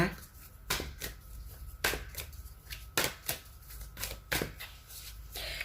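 Oracle cards being shuffled in a riffle, with about eight sharp, crisp bursts spaced roughly evenly over a soft papery background. They are close and fairly quiet, with no voices.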